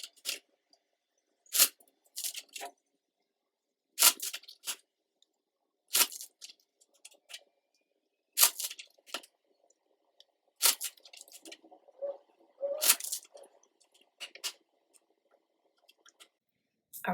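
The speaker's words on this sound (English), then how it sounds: "But let's shuffle." Tarot cards shuffled in short crisp bursts, riffling and snapping about every two seconds, with quiet pauses between, fairly close and alone.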